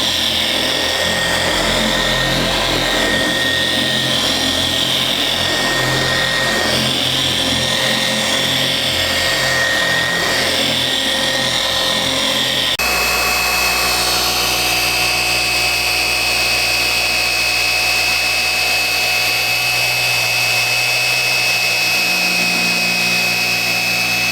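A polisher buffs a car's paint with cutting compound, giving a steady, close machine whine that runs through the whole stretch and shifts pitch partway as the pad load changes.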